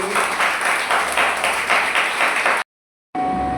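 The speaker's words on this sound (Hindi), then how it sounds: "एक जोर से प्रभु के लिए ताली देंगे।" A congregation at a Sunday worship service claps loudly for the Lord in a steady, dense burst lasting a few seconds, then the sound cuts off abruptly into silence before a faint, steady tone returns.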